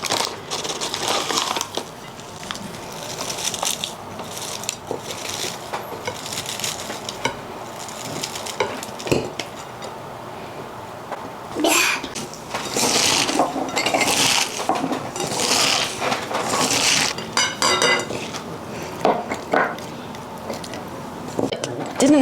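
Vegetables being fermented are smashed and packed into a jar by hand, with repeated wet crunching thumps and occasional glass clinks close by, while people talk intermittently.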